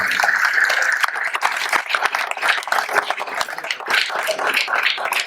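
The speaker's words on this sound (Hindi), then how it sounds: "एक बार और जोर से तालियां बजाते हैं कलाकार" Audience applause for the performers of a stage play about Birsa Munda, a dense, steady wash of clapping that holds at an even level throughout without any voices.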